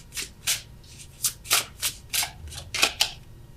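Tarot cards are shuffled by hand in about ten quick, crisp riffling bursts, close and fairly soft, with no one talking.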